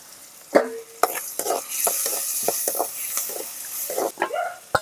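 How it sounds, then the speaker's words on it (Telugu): Onions and tomatoes frying in a pan with curry leaves, salt and turmeric, a soft steady sizzle under repeated scraping strokes of a spoon stirring close by. "ఉల్లిగడ్డలు అయితే కొంచెం వేగినాయి కదా ఇందులో టమాటాలు కూడా వేసుకుందాం"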